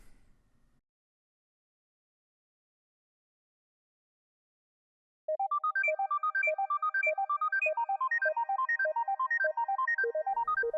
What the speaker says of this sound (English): Now that's our arpeggio sound.